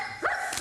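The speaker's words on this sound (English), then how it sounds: "from North Brunswick's Police Department came with 2 police dogs to demonstrate to the children how dogs are used in police work" A police dog gives two short, sharp barks in quick succession, fairly faint and slightly distant, at an outdoor demonstration for children.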